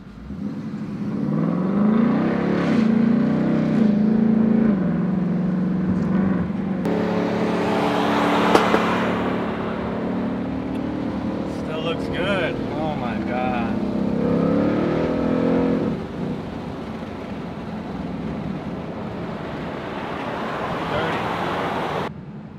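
A 2019 Roush Stage 3 Mustang engine revs and accelerates while driving, pitch climbing and falling through gear changes, with road noise and a voice talking over it.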